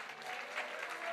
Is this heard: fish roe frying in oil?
no